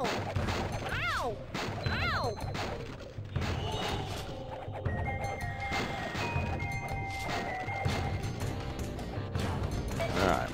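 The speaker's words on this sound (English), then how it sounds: "We smashed more boxes." Wooden boxes being smashed in the SpongeBob Revenge of the Flying Dutchman video game, with repeated loud crashes and thwacks, game music and effects running throughout and a voice talking now and then.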